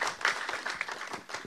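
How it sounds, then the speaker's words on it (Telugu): An audience claps at a film event, a dense, moderately loud patter of many hands heard from a distance, with no speech over it. "అందుకని మా సార్కి ఇంకోసారి క్లాప్స్."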